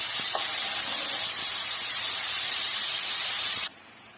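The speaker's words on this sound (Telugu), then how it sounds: "ఉల్లిపాయలు గోల్డెన్ కలర్లో వేగనివ్వాలి." Onions fry in hot oil until golden for a Telugu broad bean curry, giving a loud, steady hiss that holds evenly for a few seconds and then abruptly drops away.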